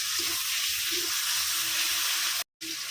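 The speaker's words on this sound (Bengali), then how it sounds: "অল্প একটু পানি অ্যাড করলাম যেন মশলাগুলো পুড়ে না যায়" Water splashed into a pan of spices frying for khichuri, giving a steady broad hiss and sizzle that holds loud and close throughout, broken by one brief dropout near the end.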